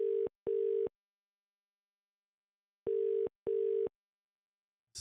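A telephone line tone repeats in paired electronic bursts, two short buzzes, a long silence, then two more, thin and quiet.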